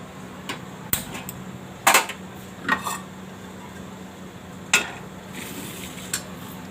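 A metal kadai is set down on a gas stove in a home kitchen, giving several sharp separate clanks and knocks spread over a few seconds against a steady low hiss.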